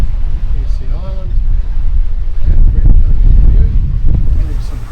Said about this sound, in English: getting some pretty good gusts coming down off the hills to windward